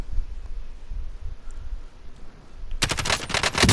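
In the video game Warzone, a sudden burst of rapid automatic gunfire breaks in loud and close after a few seconds of low background rumble.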